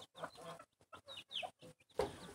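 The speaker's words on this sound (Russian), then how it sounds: "Ох и курица, ох и курица." A hen clucks in short, separate bursts close by among small chicks at a feeding bowl, with a louder cluck near the end.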